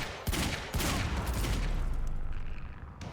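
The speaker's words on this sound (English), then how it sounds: "Okay, shooting through the shield, that's much better." Rapid, loud automatic gunfire in Quantum Break fired through an energy shield, a dense, continuous rattle opening with two heavy bursts and fading slightly toward the end, with no talking.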